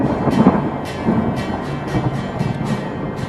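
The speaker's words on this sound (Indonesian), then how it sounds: "sehingga menyebabkan munculnya suara ledakan atau suara guntur" Rumbling thunder rolls through steady rain, low booms rising and fading over the patter of drops.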